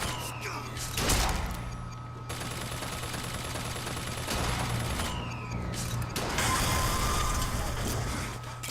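Sustained gunfire in BioShock Infinite on 1999 Mode, with rapid bursts and sharp reports filling nearly nine seconds alongside shouting, heavy and continuous with a brief lull before firing picks up again.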